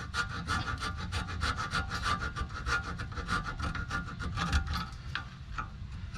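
A hand file rasps rust off an Audi A4 brake caliper in quick, rhythmic back-and-forth strokes, close and fairly loud, with no talking.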